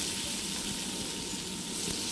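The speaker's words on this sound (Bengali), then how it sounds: "এবার কিন্তু পেঁপে আলু দিয়ে দিচ্ছি" Papaya and potatoes dropped into hot oil give a dense, continuous close sizzle with a bright steamy hiss and no talk.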